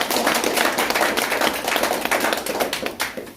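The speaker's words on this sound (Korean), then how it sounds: "자, 박수 한번 치십시오." An audience at a political rally claps steadily, a dense, even patter of many hands close by that holds at moderate loudness for the full stretch without any talk over it.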